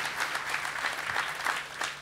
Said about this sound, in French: Ben, on peut l'applaudir, ce Ben-là.